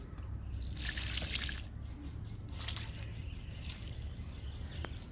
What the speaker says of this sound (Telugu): ఇంకా లిక్విడ్ ఇస్తున్నా మిరప మొక్కలకి